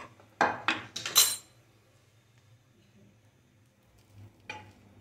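Soya chunks dropped into hot oil, a burst of loud crackling sizzle with metal clinks for about a second, then quiet low hum before one more short sizzling scrape near the end.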